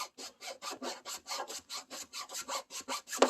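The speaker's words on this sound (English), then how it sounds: "then I take the file and I make the artificial line, you know, deeper, bigger, a little bit more" A hand file rasps over the metal body of a Mustang to deepen a line, about fourteen rhythmic close scraping strokes in a steady back-and-forth pattern, with no talk.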